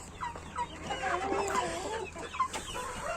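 Silver Leghorn hens cluck softly and steadily in a garden, with overlapping murmurs close by and a few sharper calls.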